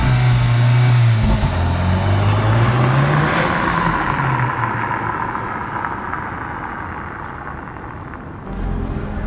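A 2021 Volkswagen Arteon engine revs loudly up close, its pitch rising and falling in a couple of swells before easing into a lower, steadier drone, with no talk over it.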